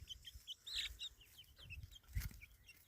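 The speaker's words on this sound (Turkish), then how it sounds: "Bu kuyruklu olanların hepsi tavuk oluyormuş." Several chickens cluck and murmur softly nearby, short chattering calls scattered over a few seconds, with a faint thump partway through.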